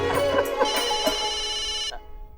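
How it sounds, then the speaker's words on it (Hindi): A phone ringtone in a Hindi sitcom scene plays a bright, melodic electronic tune for about two seconds, then cuts off abruptly, leaving a quiet room tone. "अरे मेहता साहब का फोन।"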